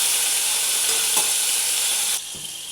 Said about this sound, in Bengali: পনিরটা একটু আমি লালচে করে ভাজবো।